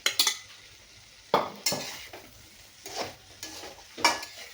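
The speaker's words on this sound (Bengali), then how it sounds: "চজিনা মিলাই দিলোঁ মিলাই দি খুব সুন্দৰকৈ মই এতিয়া লৰাই দিম" A spoon stirs drumsticks and fried potatoes in a pan, with several distinct scraping strokes against the metal over a soft sizzle, close and moderately loud, with no talking.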